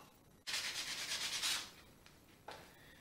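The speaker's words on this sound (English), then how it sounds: "now what I have to do is sand this off. As I said, 80 grit should do just fine." Steady rubbing of 80-grit sandpaper over a wooden barrel stave, one sustained pass of about a second, then a brief second stroke, close and fairly quiet with no voices.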